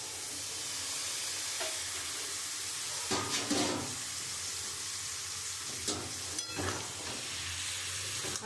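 Boiled dal and mutton sauté in a pan over a soft continuous sizzle, with bursts of stirring and scraping around the middle and again near the end, no voices.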